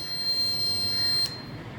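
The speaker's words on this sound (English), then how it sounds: "When rain comes, after the buzzer produces the sound and the LED blows." The buzzer of a rain detector project gives a steady, high-pitched electronic tone for just over a second, then cuts off abruptly, leaving faint background hiss.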